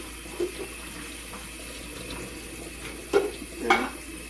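Hot water drains from a cooking pot into a kitchen sink, heard as a quiet running trickle with a few louder splashes and clunks of the pot toward the end, close and with no speech.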